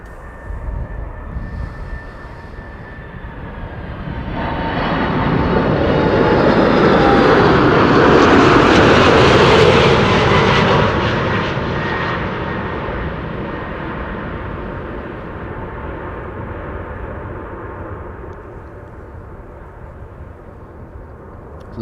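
A four-engine Atlas Air cargo jet landing at Amsterdam Schiphol: engine roar swells steadily as it approaches and passes overhead, peaking loud before slowly fading into a lingering rumble.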